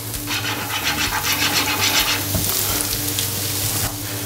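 Peas go into pork and julienned carrot frying in plenty of rendered fat and oil. A loud, steady sizzle with crackling runs throughout, mixed with faint scraping strokes from stirring, and no voices.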